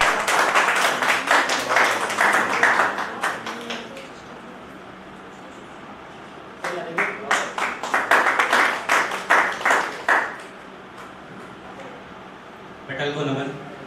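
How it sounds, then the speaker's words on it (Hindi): A poetry festival audience in Palam, Delhi, claps for a poet in two strong bursts of rhythmic, fairly close clapping, with a lull between them and a brief patter at the end. "जोरदार तालियां कुमार सर्वेश जी के लिए"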